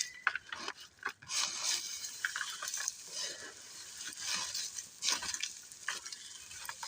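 Cocopeat and compost are mixed by hand, giving a close, continuous gritty rustling and scraping with uneven pulses as the material is turned over.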